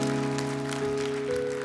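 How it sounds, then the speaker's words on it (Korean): A church congregation claps together in a steady, dense patter that runs throughout, layered under sustained held tones of organ or keyboard music. "우리 주님 앞에 영광의 박수 올려드립니다."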